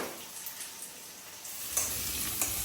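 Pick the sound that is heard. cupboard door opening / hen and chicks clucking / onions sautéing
onions sautéing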